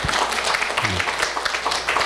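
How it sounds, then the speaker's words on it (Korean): A church congregation applauds during a Sunday worship service to welcome back a member, a dense, steady patter of clapping with a voice faintly audible underneath. "우리 박수로 한번 환영해 주시기 바랍니다"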